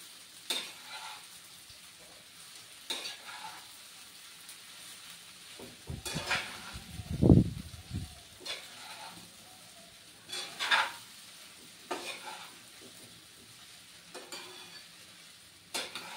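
Sabudana khichdi fries in a pan with a quiet, continuous sizzle, broken by repeated scraping stirs and clinks of a spoon against the pan.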